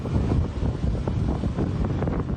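Strong, gusting wind roars during a wildfire at Mallacoota, with 49-degree heat and gusts to 80 km/h; a continuous, loud, buffeting rush fills the clip with no speech.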